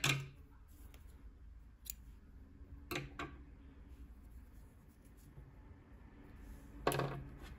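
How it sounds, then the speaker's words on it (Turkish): Scissors snip through crochet yarn while a princess hat is being finished, a few short, crisp, quiet cuts spread apart against a low, steady background hum. "İpliği kesiyorum"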